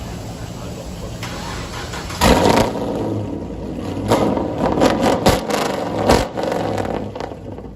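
Dodge Hellcat with a new exhaust revving hard in loud bursts and launching, its engine roaring in several surges over a steady idle rumble, close by and without speech.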